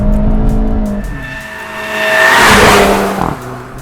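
A Volkswagen Golf GTI Mk7 engine revs hard accelerating out of a curve on a road, with a rising broad roar peaking midway and some tire noise, close and loud with no talking.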